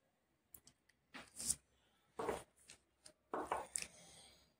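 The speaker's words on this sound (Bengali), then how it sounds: "এবার এটাকে আমি একটা ওই কিচানি দিয়ে ভালো করে ক্রাশ করে নেব" Cooked papaya being crushed with a kitchen masher, a series of irregular squishy clicks and soft thuds close by, coming in short clustered bursts separated by pauses.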